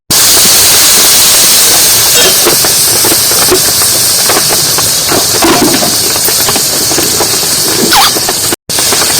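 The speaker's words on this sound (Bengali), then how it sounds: "এবার সামান্য মশলায় আমি জল দেবো" Loud, steady hiss and crackle of water hitting hot, sizzling masala in a pan, a continuous seething roar with brief squealing spurts throughout.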